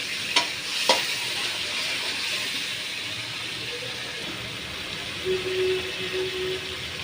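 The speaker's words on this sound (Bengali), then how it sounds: "এখন চিংড়ি মাছ দিয়েও ভালো করে কষিয়ে নেব।" Shrimp stir-frying in spice paste, a soft steady sizzle with a couple of sharp clanks of a utensil early on and faint scraping, close and without talk.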